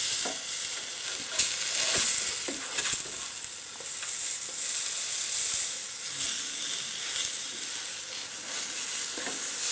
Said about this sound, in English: I'm just going to flip them over again